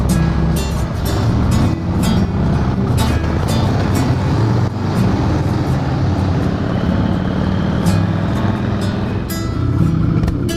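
Motorcycles roll off a ferry during a Washington coastal tour, their engines a steady close rumble with clattering ramp noise throughout, the passes blending into one continuous loud drone.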